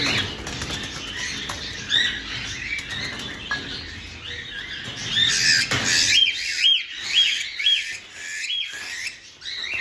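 Birds flapping their wings nearby, a rustling flutter of wingbeats mixed with chirps and twittering calls, building in the middle and continuing with high repeated chirps, no speech.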